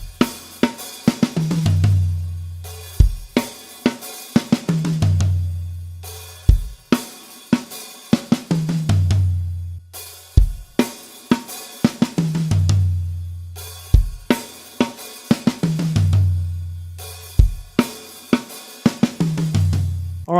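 Drum kit playing a fill from a song: loud, close, sharp hits in a repeating pattern of bursts over deep sustained bass notes, with no talking.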